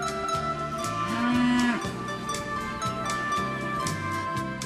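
Fighting bull cows of the lidia breed mooing on a Spanish ranch, with a loud, close low bellow over a background of steady music.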